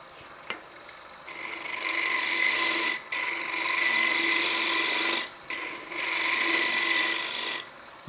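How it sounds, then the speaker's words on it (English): A steady high whine of a spinning lathe with three passes of light, raspy scraping cuts against a wooden flask, separated by brief pauses. "Very light scraping cuts."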